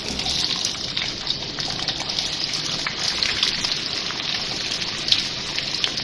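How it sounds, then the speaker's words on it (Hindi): Onions sizzling in half a cup of hot oil in a pan for keema biryani, a steady loud hissing fry that fills the whole stretch, with faint crackles and no talking. "मैंने हाफ कप ऑयल लिया है और अब इसमें प्याज डाल रही हूँ ब्राउन करने के लिए"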